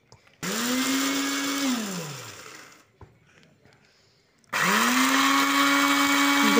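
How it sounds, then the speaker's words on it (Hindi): An electric grinder grinds whole dried chillies in two loud whirring bursts. The motor winds down during a short quiet gap between them, then starts again. "सबसे पहले हमने साबुत मिर्च ग्राइंड करनी है, क्योंकि इसको ग्राइंड करने में टाइम लगता है।"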